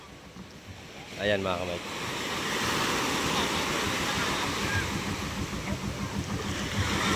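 Sea waves wash against the shore in a steady, broad rush, with someone speaking briefly over the surf near the start.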